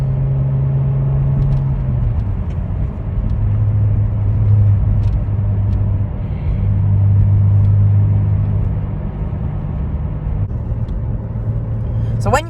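A Porsche 911 (997) Turbo Cabriolet engine drones loudly and steadily with a deep rumble, its pitch shifting as the car accelerates, while a person talks over the engine noise.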